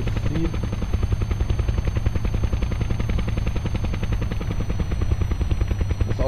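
A helicopter flies in Kerbal Space Program, its rotor giving a loud, steady, rapid chop that keeps up throughout with no voices over it.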